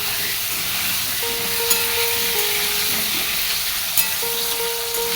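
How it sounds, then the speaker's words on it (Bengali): Potato chunks for chicken curry frying in a pan, a steady close sizzle and hiss throughout with a couple of faint clinks. "এদিকে মাংসের আলু বসিয়ে দিলাম"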